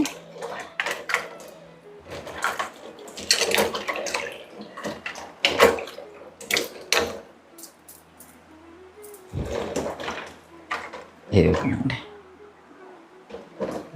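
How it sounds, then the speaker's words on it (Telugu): Jackfruit seeds are washed by hand in water, with intermittent splashing, swishing and dripping in short bursts, close by and fairly quiet between sloshes. "పనస గింజలు అట్లా ఉంటాయి కదా అందుకని చక్కగా నీళ్ళతో కడిగేసుకోవాలి"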